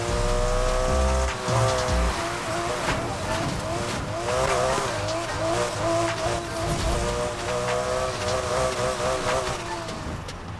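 A Porsche RSR drifts through a night race in Need For Speed Heat, its engine droning steadily with tire squeal from the sliding car running through the whole stretch at a constant, loud level.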